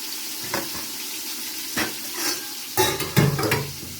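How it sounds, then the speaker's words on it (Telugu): Mint and coriander leaves fry for biryani, a steady sizzle broken by several scraping stirs of the pan, the last ones louder and closer, with no voices. "ఇవన్నీ పుదీనాకు కొత్తిమీర ఇవి కూడా వేసి వేగనిస్తాను కాసేపు"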